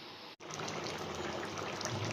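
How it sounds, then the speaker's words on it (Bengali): Water is poured into a pan of drumsticks cooked with mustard. A brief gap is followed by a continuous close splashing gush of liquid. "একটু জল দিয়ে দিব সিদ্ধ হওয়ার জন্য"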